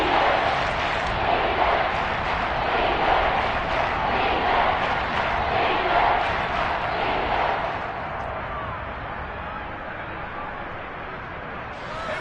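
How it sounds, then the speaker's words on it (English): Loud stadium crowd noise at a Seattle Seahawks football game, a dense, steady roar filling the venue while the opponent's offense sits in the red zone, easing slightly toward the end. "this red zone is where the Seahawk crowd really makes it tough for an offense to communicate"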